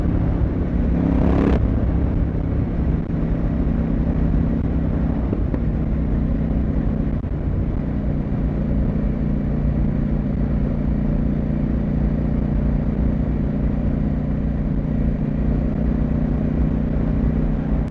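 CFMoto 800MT motorcycle riding in cold weather, its engine and exhaust a steady loud drone with a brief sharp blip near the start as a quick-shifted gear change, wind rushing throughout.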